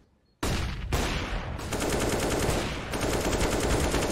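Rapid automatic gunfire in a Counter-Strike: Global Offensive match, sustained bursts starting abruptly after a short silence and continuing loud and close with brief shifts in tone, no talking.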